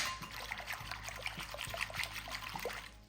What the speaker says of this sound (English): we're just gonna whisk it up